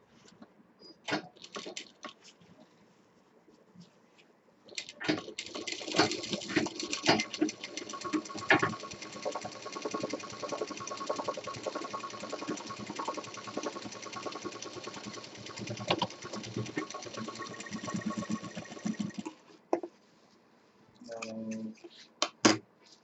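A sewing machine stitches the sides of a handmade handbag together in one steady, close run of rapid needle strokes lasting about fifteen seconds, with brief handling noises before and after.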